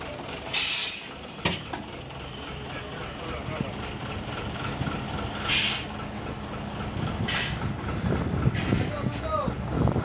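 A container trailer truck tows a stuck truck, its engine giving a steady low rumble throughout, broken by several hissing gusts of wind or air.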